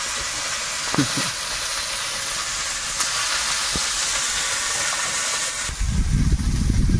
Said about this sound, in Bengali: তেলের মধ্যে একটু কালো জিরে দিলাম আর কাঁচা লঙ্কা